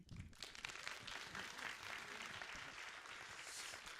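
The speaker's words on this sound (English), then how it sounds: "When you're all here, we give you a big applause." An audience applauds steadily, a dense wash of many hands clapping together at moderate volume throughout.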